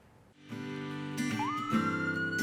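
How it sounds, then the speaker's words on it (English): Police cars pull away with their sirens winding up. A rising electronic wail starts partway through over a steady tonal hum and carries on loudly to the end. "Uniformed police officers are taking off in their police cars."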